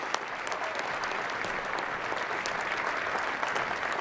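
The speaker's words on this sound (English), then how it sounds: "Can we get one more round of applause for the Bamford family?" Sustained applause from an audience at an evening award presentation honoring a family, a dense, even wash of clapping heard alone and kept up throughout.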